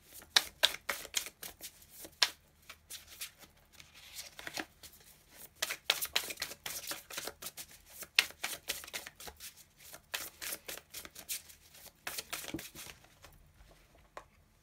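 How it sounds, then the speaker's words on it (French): Tarot cards shuffled and drawn during a fire-sign reading, a dense run of quick, crisp paper flutters and snaps near the microphone, thinning out toward the end with no voices. "Je vais encore tirer une autre carte."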